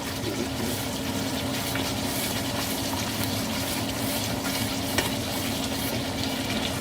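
Water being added to a simmering chicken korma gravy in a pan, giving a continuous steady sizzling, bubbling wash that stays even throughout.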